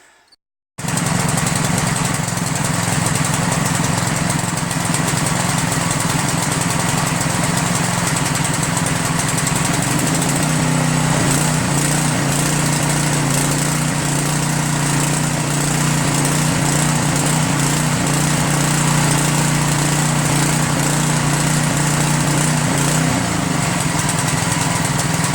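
A small gasoline engine catches after a single pull and runs loudly and steadily, its pitch shifting slightly as it settles into a continuous drone.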